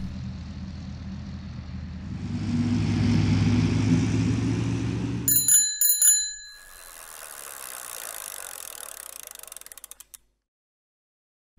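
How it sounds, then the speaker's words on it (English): Bicycle riding noise builds up, then a bicycle bell rings in a few quick, bright, metallic dings before faint clicking and rattling fade out to silence. "Bicycle."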